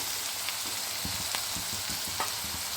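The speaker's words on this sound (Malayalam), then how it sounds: "സവോള ഒന്ന് ട്രാൻസ്പെറൻ്റ് ആവുന്നിടം വരെ ഇത് ഇളക്കി കൊടുക്കണം." Sliced onion and curry leaves fry in oil in a pan, a steady, gentle sizzle with soft scraping taps from stirring now and then, close and continuous, no voices.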